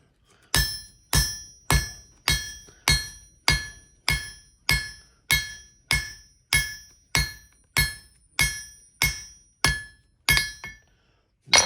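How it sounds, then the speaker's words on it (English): A leaf hammer strikes hot steel being forged into a three-dimensional horse head, about fifteen evenly paced ringing blows on the anvil, each a sharp metallic clang that decays before the next. "I'm going to switch at hammers to the leaf hammer to draw his lower neck out."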